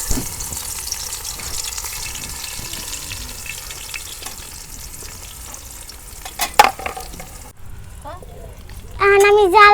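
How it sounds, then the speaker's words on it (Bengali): Chopped onion frying in hot oil at a picnic cookout, a steady sizzle with stirring scrapes throughout, ending with brief water splashing and a high tonal whine. "এখন আমি তেলও গরম হয়েছে, পেঁয়াজ কুচি দিয়ে দিই।"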